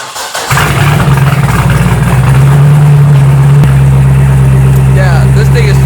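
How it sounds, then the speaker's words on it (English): A Z06 Corvette cold-starts on jacks: a short crank, then the engine catches with a loud bark and settles into a deep, steady, rumbling high idle close by. "Here's a little cold start for you guys."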